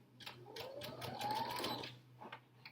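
A sewing machine stitches a 1/4 inch seam and finishes with a quick back stitch, running in a steady, close whirring burst for about two seconds with a soft mechanical hum.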